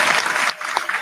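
A brief burst of hand clapping from a few people at a podcast recording inside a store, dense and close, with no talking.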